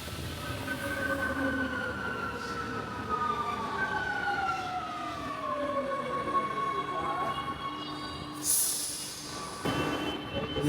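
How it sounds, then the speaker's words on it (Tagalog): A passenger train pulling in at a station platform in Italy, its wheels squealing and brakes whining in long gliding tones over rumbling station noise, with a brief hiss of air near the end. "Andito na ata yung train."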